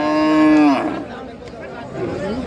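A thin cow at a livestock market lets out a loud, close moo that fades after a moment, followed by faint background murmuring.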